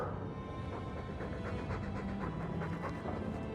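A Mabari war dog in the video game Dragon Age 2 pants steadily, with quick rhythmic breaths repeating close up over a low, constant background hum.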